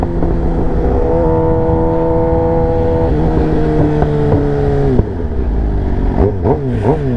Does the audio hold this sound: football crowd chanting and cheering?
no